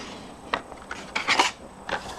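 A Stampin' Up! paper trimmer slices through Night of Navy cardstock with a few short scraping, clicking strokes, the blade drawing across close up in quick bursts.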